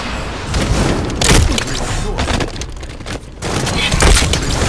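Shotgun gunfire in the Halo 5: Guardians multiplayer video game, with repeated loud booming blasts and rapid gunfire bursts in a dense, continuous firefight mix with some faint game voice audio.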